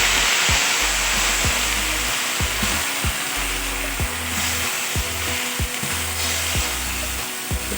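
Blended red chili frying in a pan with bay leaves and bruised galangal, a steady close sizzle and crackle with spatula scrapes knocking rhythmically against the pan.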